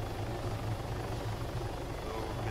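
Helicopter in the video game Arma Altis Life, a steady low rotor thrum with a constant engine whine filling the whole stretch, loud and close as if heard from inside the cabin.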